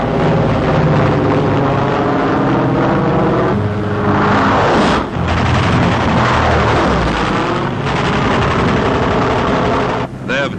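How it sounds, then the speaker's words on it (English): WWII P-47 Thunderbolt fighters roar loudly overhead in a sustained, powerful piston-engine drone that swells and shifts as aircraft pass, with a narrator talking over it. "As an attack by German Messerschmitts and Focke-Wolfs is about to develop, the Thunderbolts peel off to intercept,"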